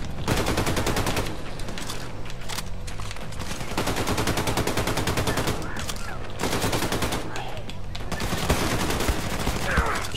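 Sustained automatic gunfire in the video game Wolfenstein: The New Colossus, loud rapid bursts running almost continuously with a couple of short gaps, a player's voice occasionally over it.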